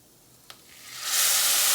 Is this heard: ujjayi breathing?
no